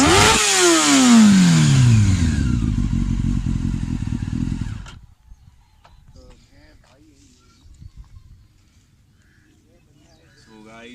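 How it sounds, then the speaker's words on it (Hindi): A Honda CBR 600 limited edition with a Yoshimura exhaust fires up and revs hard, a loud close engine roar with a sweeping rise and fall in pitch that cuts off after about five seconds, leaving quiet background noise. "बाइक स्टार्ट हो रही है।"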